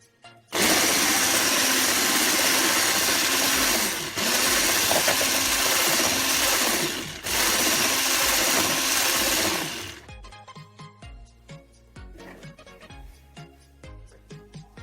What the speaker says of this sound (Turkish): Şimdi tekrardan bir çırpacağım.